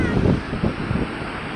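Large waves break on a beach at Napsan, Palawan, a broad low rumbling surge that swells and recedes in two or three pulses, mixed with wind buffeting the microphone throughout.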